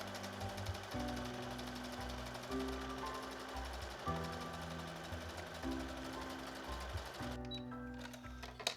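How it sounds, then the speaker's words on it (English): A sewing machine stitches the side seams of a shirt top. It whirs steadily and close in several long runs, with brief stops between passes and a few clicks near the end. "we're going to sew the sides together"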